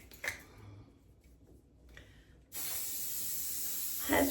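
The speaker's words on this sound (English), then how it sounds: "hairspray, lots of hairspray" Hairspray hisses from an aerosol can onto hair in one long continuous spray that starts abruptly and stays loud, following a few quiet rustles and faint clicks.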